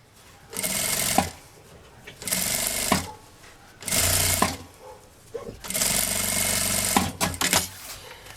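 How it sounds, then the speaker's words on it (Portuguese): A sewing machine stitches a seam beside a zipper while making a fabric storage basket, running in several loud close bursts of a few seconds each, separated by short pauses. "Passo uma costura aqui."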